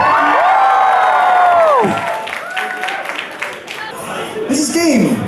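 Convention audience at Alcon 2014 cheering, with loud whoops and shrill yelling swelling and sliding in pitch, then scattered shouts and clapping from a large crowd.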